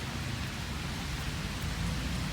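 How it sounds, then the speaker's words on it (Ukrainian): Steady rain falling outdoors at a tractor and equipment lot, a continuous broadband hiss that stays even and moderately loud throughout, with no voices. "Йде дощ"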